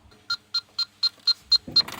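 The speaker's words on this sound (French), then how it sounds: "le son, le bip va s'accélérer s'il y a une détection de fluide frigorigène" Electronic refrigerant leak detector used around the fittings of a car air-conditioning system, giving seven short, evenly spaced beeps close up, with a little handling noise at the end.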